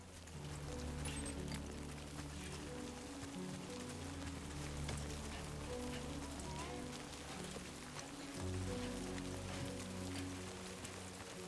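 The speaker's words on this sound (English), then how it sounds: "Great. Rain. Gotta move. Also, the rain is cursed in this game" Rain pouring steadily in the video game Death Stranding 2, a soft, even patter on surfaces under a low droning background that runs throughout.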